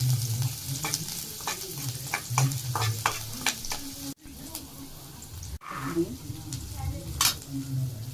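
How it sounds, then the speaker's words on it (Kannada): Raw green peas frying in a little oil, stirred with rhythmic spoon scrapes over a continuous sizzle, close and fairly loud, with brief pauses in the middle. "ಸ್ವಲ್ಪ ಎಣ್ಣೆಲಿ ಫ್ರೈ ಮಾಡ್ಕೊತೀನಿ."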